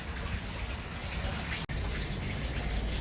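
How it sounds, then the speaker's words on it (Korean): A hinoki wooden bathtub fills with water in a Busan hotel room, producing a steady, soft, even gush that runs continuously and is heard alone with no talking. "뒤에 보면은 히노키탕에 물 받고 있죠"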